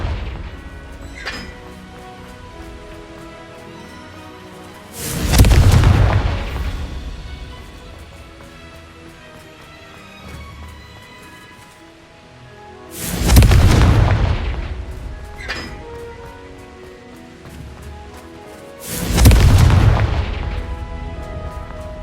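Three heavy blasts from the Confringo spell in Hogwarts Legacy, each a loud booming explosion that decays slowly, spaced several seconds apart with quiet game ambience between.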